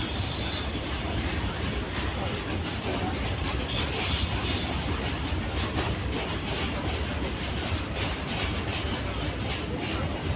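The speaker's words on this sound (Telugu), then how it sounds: "ఇదైతే లైక్ ఎలక్ట్రానిక్ ట్రైనే బట్ కొత్తది. ఇదైతే గూడ్స్కి వినియోగిస్తున్నారు" A new, very long electric goods train rolls past close by in a loud, continuous rumble, with wheel clatter and faint squeals throughout.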